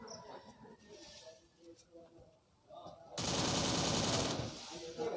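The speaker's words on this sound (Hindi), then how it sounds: "लिपुन भाई गोली चले तांको लोकेशन देखि देइचन्ती।" Rapid bursts of video game gunfire crackle in a dense, loud volley, with faint game sounds before it and a voice speaking over parts.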